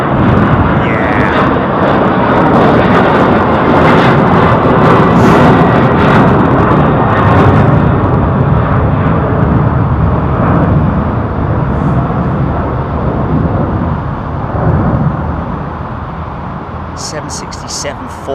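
Boeing 767-400 with raked wingtips at Heathrow, a heavy jet roar loud from the start that slowly eases over the clip, with people talking nearby.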